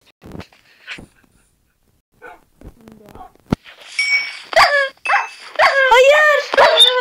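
A dog in the Minecraft video game gives a series of short yips, barks and whimpering whines, growing louder and more frequent after a few quiet clicks.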